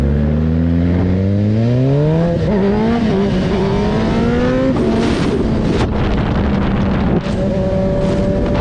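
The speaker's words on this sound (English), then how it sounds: "They're back eastbound doing wheelies down ISB." Motorcycles rev hard while riding wheelies eastbound down a street, a loud rising and falling engine whine that climbs in pitch through several gear changes, close and continuous with no talking.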